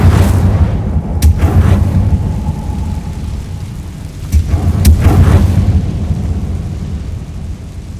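Incendio fire spell cast in the Hogwarts Legacy game, heavy booming rumbles with sharp whooshing bursts of flame, loud and continuous without speech.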